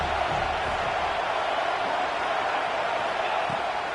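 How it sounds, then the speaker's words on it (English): Steady roaring crowd noise fills a college football stadium at Saban Field as the Crimson Tide defend on third down, a continuous dense wash of voices without distinct cheers, loud and unbroken. "The Tide crowd rolling noise down onto Saban Field on third down."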